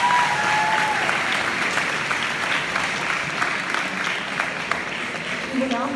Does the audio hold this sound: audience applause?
yes